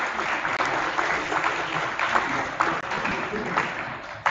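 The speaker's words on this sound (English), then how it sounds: "Please give him a round of applause." Steady audience applause fills an auditorium at an entrepreneurship summit at XIM Bhubaneswar, a dense sustained patter with scattered louder claps throughout.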